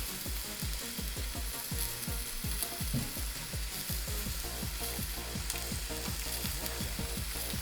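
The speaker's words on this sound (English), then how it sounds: "these are green onions and they'll cook up pretty darn quickly" Green onions stir-fry in a hot pan, giving a steady sizzle broken by repeated rhythmic scraping and tossing strokes of a utensil, close and continuous.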